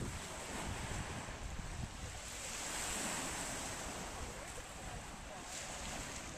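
Waves wash steadily onto the rocky shore of Kamari beach on Santorini, a faint, constant surf hiss with a gentle swell midway.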